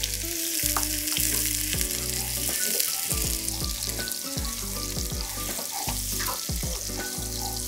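Shallots sautéing in olive oil in a warm cast-iron pot, a continuous close sizzle with a lower rumbling undertone and scattered clinks throughout.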